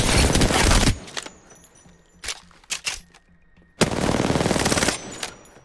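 R99 submachine gun fire in Apex Legends, two loud sustained automatic bursts about a second long each, separated by a few short isolated shots and quiet mechanical clicks.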